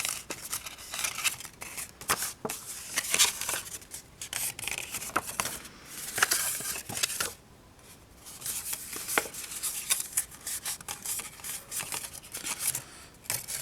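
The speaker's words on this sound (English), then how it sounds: "we're going to take these and fold them into" Cardstock being folded into rectangles for a handmade card: steady close crinkling, scraping and rubbing of stiff paper, continuous with small sharp creases and a brief lull partway through, no voices.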